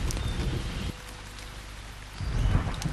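Steady hiss of rain falling from the sky, dense and broadband, with a quieter lull in the middle before the downpour swells again; low rumbling layers suggest thunder or wind underneath, no voices.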